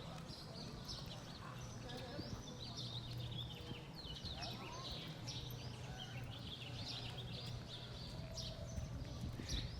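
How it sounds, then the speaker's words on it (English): Birds call faintly in a quiet downtown square in Jocotepec, Jalisco, with a steady murmur of voices and light background activity underneath. "all you can hear is birds chirping"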